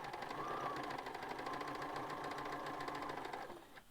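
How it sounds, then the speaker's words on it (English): Sewing machine stitching quilt fabric squares, a fast steady mechanical whir with an even rhythmic needle clatter, close and continuous for several seconds before slowing to a stop. "So I'm going to sew on the right line till I get to the crisscross"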